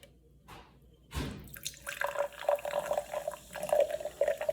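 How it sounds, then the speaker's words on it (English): Fanta orange soda poured into a cup: a short clunk is followed by a continuous splashing, fizzing pour, close and moderately loud. "let's add Fanta in first. Let's see, listen to the pour."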